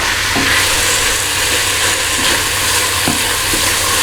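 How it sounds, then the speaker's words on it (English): Chorizo sausage sizzles in a pan with chicken for a Cajun jambalaya, a steady loud frying hiss with a few soft scraping stirs, with no talking. "next I want to add in that chorizo sausage"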